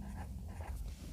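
A pen writing on paper during a handwritten math lesson, soft close scratching strokes in short bursts, brief and quiet.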